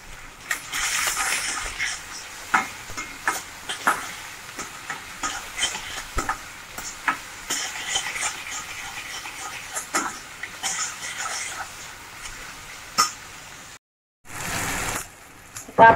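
Tomatoes tipped into a hot pan for masala pasta and stirred, giving scattered soft sizzles, splashes and scraping clatters. A brief louder burst comes near the end.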